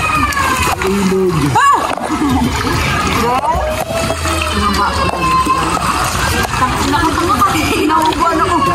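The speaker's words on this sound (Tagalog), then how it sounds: "Ilog." River water sloshing and splashing steadily, fairly close, with voices talking over it throughout.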